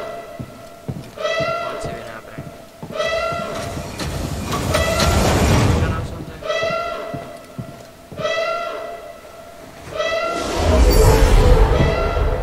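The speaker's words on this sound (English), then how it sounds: "Train has stopped." Train in the Star Wars Jedi: Fallen Order video game, rumbling and clattering with repeated horn-like tonal blasts at a steady rhythm, loud and close, ending in a heavy roar.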